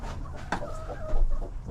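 A broody hen sitting on eggs inside a chicken coop gives a run of close, throaty clucks and low grumbling calls over about two seconds, with no talking.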